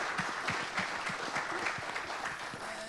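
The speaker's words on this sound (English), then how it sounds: "So why don't you guys give yourselves, the future, a big round of applause?" Audience at an HR summit panel discussion gives a steady, dense round of applause, sustained and fairly close throughout with no talking over it.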